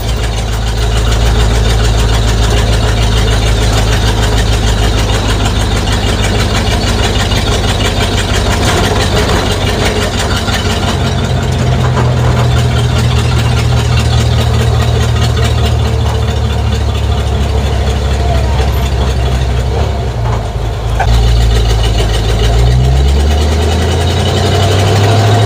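A car engine drones steadily from inside the cabin during a drive through Spartanburg, with constant road and engine noise and a low hum that shifts slightly in pitch as the car slows near the end.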